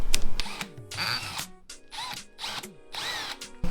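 A power drill bores a hole to fit a carbon side marker on a Subaru BRZ / Scion FR-S / Toyota 86, several short, loud whirring bursts with brief pauses, close by.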